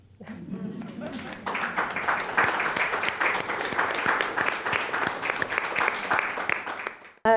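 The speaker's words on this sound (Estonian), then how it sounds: "Ja sellega võiks teha Aleksandrile aplausi." Audience applause at a museum talk rises after a brief murmur and holds as steady, dense clapping from a seated crowd for several seconds, then cuts off abruptly.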